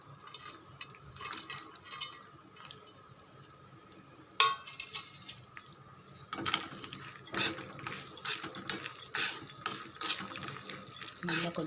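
Corn flakes snack mix with raisins sautéing in a pan over low heat, with intermittent scraping and clinking of a spoon against metal; quiet at first, growing busier and more continuous in the second half.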